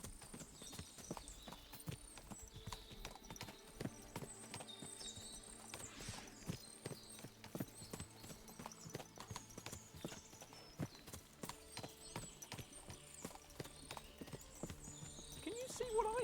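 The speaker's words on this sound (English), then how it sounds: "What a lot of horses!" Horse hooves clip-clop steadily across a medieval fortress in the video game Kingdom Come: Deliverance II, with several horses moving about, occasional whinnies and voices talking over the busy, continuous hoofbeats.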